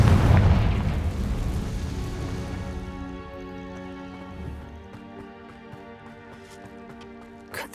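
A Confringo blasting spell explodes in the video game Hogwarts Legacy: a loud, deep booming blast at the start that rumbles and slowly decays into a ringing, crackling tail over several seconds.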